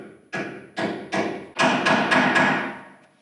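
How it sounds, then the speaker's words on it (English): A metal bearing keeper is hammered into place in a bearing assembly, giving six sharp, close thuds, three spaced strikes and then three quicker ones, each ringing out briefly with no voices. "Just gonna see if it'll hammer in there."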